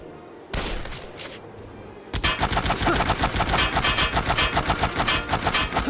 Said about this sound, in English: And how fitting, a machine gun.